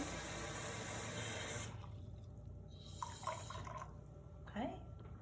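Hot water poured from a cup into a glass bowl for homemade bread dough, a close, bright splashing stream for about a second and a half, then quieter trickles and clinks.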